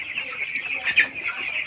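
Thirteen-day-old broiler chickens in a poultry shed cluck and peep in a continuous busy chorus, fairly close, with a faint voice in the background.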